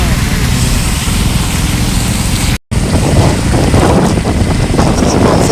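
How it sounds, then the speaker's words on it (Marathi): Heavy rain and gusting wind outdoors on a stormy, waterlogged day, a loud, steady broadband roar that cuts out for a split second midway and then continues unbroken. "पावसाचा जोर पण भरपूर वाढलाय."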